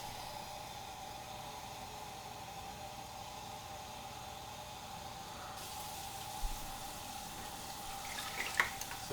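Tap water runs steadily into a 2-cup measuring cup for a batch of homemade kombucha, a constant hiss of flowing water that brightens near the end with a few small splashes and clinks.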